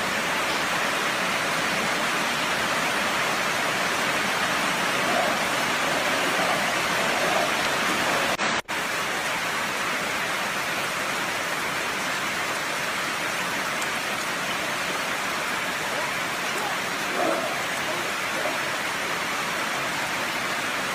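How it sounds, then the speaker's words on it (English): Heavy rain pours steadily over a jungle training area, a dense, continuous hiss with no breaks and no voices. "Look at the flowing of the rains. I can see the rains there."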